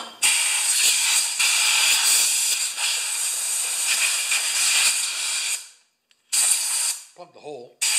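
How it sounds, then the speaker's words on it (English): Compressed air is blown into a lawn mower's housing near the coil: a loud, steady hiss lasts several seconds, cuts off, then returns in a shorter blast, with a brief voice at the very end. "Just gonna spray a little air in there."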